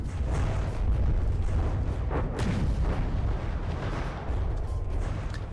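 Light cruiser guns firing in the From the Depths naval combat game, a rapid rolling series of heavy booming shots overlapping into a continuous rumble.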